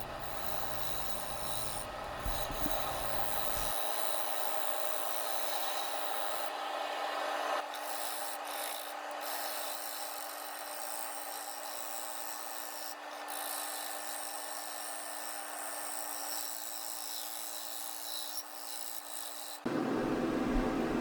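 Wood log turned into a bowl on a lathe, a gouge taking off heavy cuts as the blank spins on a screwed faceplate; steady, continuous scraping and rasping close by, with no talk.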